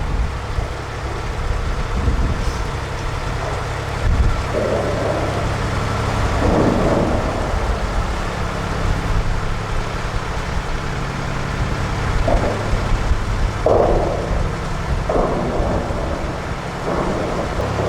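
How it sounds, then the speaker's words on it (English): A deep, continuous rumble rolls overhead from road traffic on the A14 bridge above, with heavy vehicles thudding and swelling now and then, loud and close. "We're actually going under the A14, that's the sound you hear."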